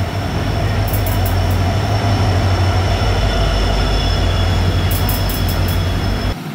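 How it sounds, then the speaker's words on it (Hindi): An Indian Railway train pulls through Dadar station in Mumbai, a loud, steady rumble of rolling carriages close by with high wheel squeals in short bursts, running continuously until it cuts off at the end. "देखिए ये सामने हमारी ट्रेन आ चुकी है।"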